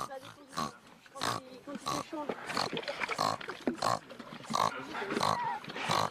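A voice imitates a pig's grunting during a children's farm visit while pigs are being fed, a series of rhythmic, close, throaty grunts and snorts with other voices talking around them.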